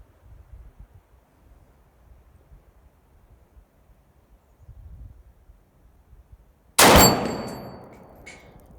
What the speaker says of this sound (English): let's start out with that 8-inch gong. This is 100 yards.